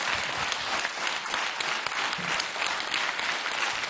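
Steady audience applause at a Norwegian event, dense and continuous clapping from a crowd filling the whole stretch without pause.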